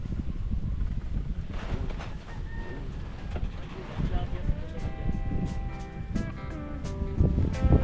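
Strong wind buffets an outdoor camera set up by a fishing spot, a loud, rumbling low roar of mic noise that persists throughout, with faint voices and tonal sounds in the background.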